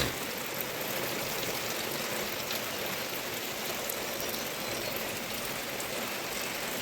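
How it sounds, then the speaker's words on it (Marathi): Rain falls on a courtyard in Konkan, a steady, dense hiss that stays even throughout with no voices. "असा पाऊस पडतो आहे."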